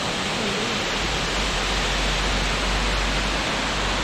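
Spring water pouring out of the ground at Shirahige waterfall in Biei, Hokkaido, makes a loud, dense, unbroken roar that stays constant throughout.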